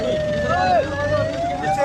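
An ambulance siren wails, its pitch rising and falling, over a low rumble of traffic.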